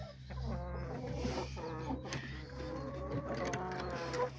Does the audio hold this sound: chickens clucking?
yes